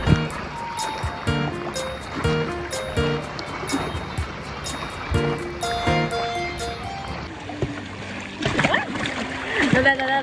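Small boat riding over sea waves near Caramoan, with water splashing and sloshing against the hull in uneven bursts, under a constant rushing background and voices talking.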